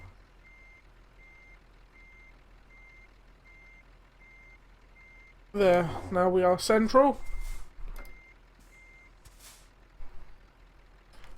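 In Euro Truck Simulator 2, a Scania lorry's steady, evenly spaced reversing beep repeats in the background while someone speaks briefly over it, followed by a soft hiss.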